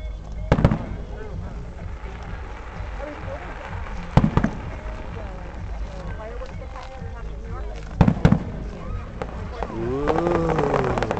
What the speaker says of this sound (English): Dad, fireworks. Very pretty.